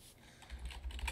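Computer keyboard keys pressed for a Control D duplicate shortcut while working in the Unity editor, giving a few soft, close clicks over faint background hiss.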